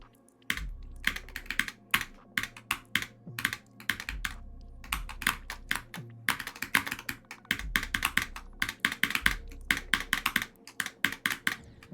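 Fast typing on a computer keyboard gives dense bursts of clicky keystrokes with short pauses between runs, close and alone with no talking.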